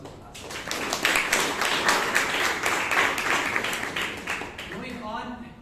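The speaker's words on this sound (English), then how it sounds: "A round of applause for the class" Audience at a Toastmasters meeting in Bangalore clapping, a close, steady round of applause for about five seconds that fades at the end as a voice begins.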